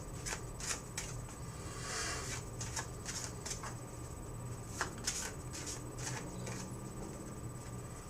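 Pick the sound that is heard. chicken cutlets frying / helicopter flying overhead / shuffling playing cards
shuffling playing cards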